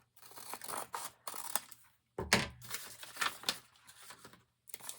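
Paper-cutting scissors snipping through a sock for a craft project, repeated close crunchy cuts in uneven bursts with short pauses.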